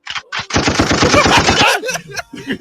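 A rapid burst of gunfire sound effect, a quick rattling string of shots lasting about a second, loud and close, followed by a few softer clicks.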